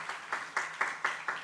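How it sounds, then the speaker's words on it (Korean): A small group at a church gathering claps in a few loose bursts, roughly one every quarter second, fairly quiet and close, with no voices over it. "여러분 먼저 박수 한번 하겠습니다."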